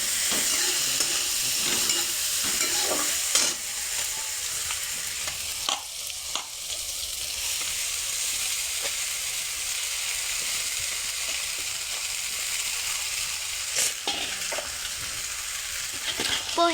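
Poha seasoned with turmeric and salt fries in a pan, with steady sizzling and the repeated scrape and clatter of a spoon stirring through it, loud and close with no talking.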